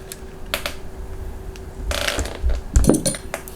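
Small metallic clicks and ratcheting taps come from tightening parts on an INF M249 airsoft squad support gun during home maintenance, close and sparse, with a few louder clunks near the end.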